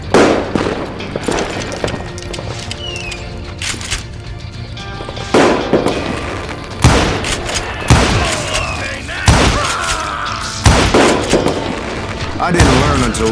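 Gunfire in the video game Call of Juarez: Gunslinger cracks out in loud, sharp shots and quick volleys spread irregularly across the stretch, mixed with game voices and effects.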